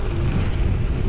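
Loud, low rumbling wind buffets the microphone in a continuous roar for about a second during a ride.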